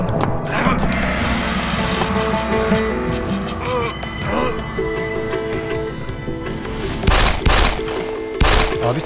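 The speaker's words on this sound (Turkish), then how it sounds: "Abi sıkıyorlar." Gunfire with a car engine in a Turkish drama scene, loud sharp bursts of shots cutting through a continuous roar of engine and movement, with scattered shouts.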